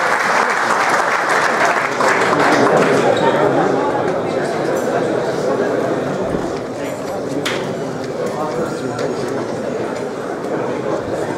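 Warm, sustained audience applause from a large crowd, dense and loud at first and then settling slightly while continuing steadily throughout, with voices mixed in.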